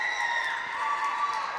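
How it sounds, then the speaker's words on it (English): A girls' varsity high school basketball bench applauds and cheers after a banked three-pointer, steady crowd clapping and cheering noise filling the gym, continuous and moderately loud throughout. "And the bench up, loving that one, applauding."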